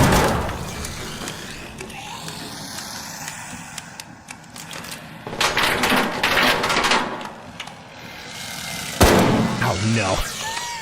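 Gunfire in ARC Raiders rings out in scattered bursts and cracks over a busy game soundscape, with a sharp loud shot near the end; a voice talks over parts of it.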